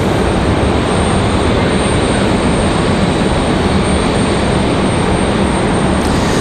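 A steady, loud roar of an airplane engine at Raleigh-Durham International Airport fills the whole clip, broad and unbroken, with heavy rain noise layered in and no voices.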